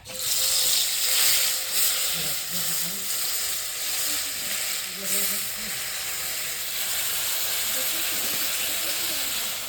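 Fish dropped into hot oil spiced with cumin and bay leaf, giving a loud, steady sizzle and hiss close by, with faint stirring beneath it.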